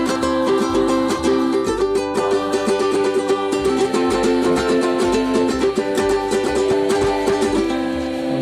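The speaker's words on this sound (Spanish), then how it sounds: "El ukelele suena más o menos así." A ukulele, as heard in the music of Rapa Nui, is strummed in a steady, dense rhythm of bright repeated chords with a low bass pulse under it, loud and continuous with no talk.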